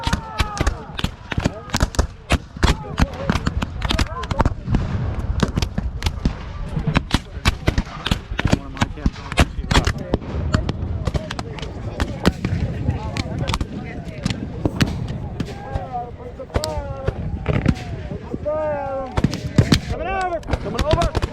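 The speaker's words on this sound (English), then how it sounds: "Union soldiers throw Ketchum grenades and artillery shells down on the rebel troops" Civil War battle reenactment at Fort Davidson, Pilot Knob: dense, rapid gunfire cracks and booming grenade and artillery blasts, some close and loud, ring out continuously while voices shout between the shots.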